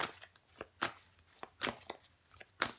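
A tarot card, the two of wands, laid down onto a table, giving soft papery taps and slaps in an irregular series of light, close contacts with quiet gaps between.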